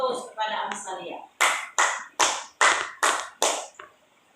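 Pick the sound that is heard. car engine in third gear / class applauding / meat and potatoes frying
class applauding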